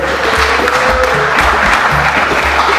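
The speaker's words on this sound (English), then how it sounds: "Come, give the pen a clap, please" Applause from an audience at a live event, dense clapping that stays loud and steady, with a low hum and murmurs underneath.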